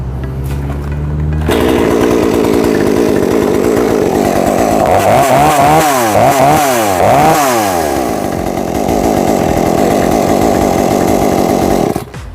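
A New West 488Plus chainsaw roars to life after a brief quieter start, then runs loud and close, its engine revving up and down several times before cutting off.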